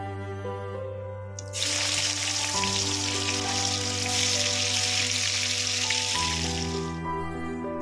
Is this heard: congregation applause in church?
no